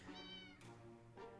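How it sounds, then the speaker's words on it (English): Cat meowing in the 60 Seconds! Reatomized video game, three drawn-out, tonal meows in a row, close and fairly loud, with no talking over them. "that's a cat, isn't it?"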